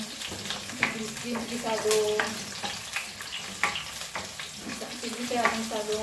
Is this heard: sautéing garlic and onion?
yes